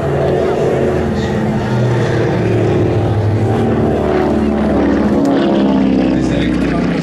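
A vintage propeller airplane flies at the La Ferté-Alais airshow, its engine drone loud and sustained throughout while a voice talks over it.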